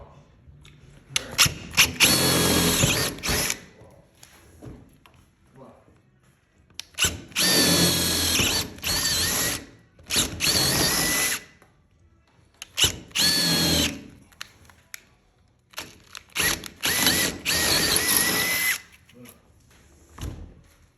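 A power drill boring holes in a door for a closer and latch, loud whirring bursts of two to three seconds each, four runs separated by pauses with faint handling noise between.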